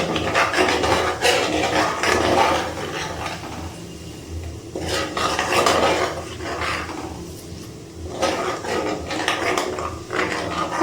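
Homemade ghee made from milk cream, reddish and foaming as it heats, stirred in a pan: a continuous scraping, rasping churn of the utensil against the metal in uneven waves, fairly loud and close.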